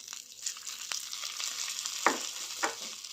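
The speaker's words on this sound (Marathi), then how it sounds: "त्यावर हे तडका घालते" Hot tadka poured over roasted gram and peanut chutney in a bowl gives a bright, steady sizzle with a few sharp crackles and spatters near the end, fairly quiet and close, with no voices.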